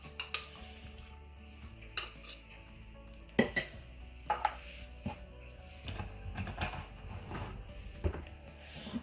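Slime being scraped and emptied out of a cup, with scattered plastic clicks, knocks and soft wet scraping against a steady low background, no talking.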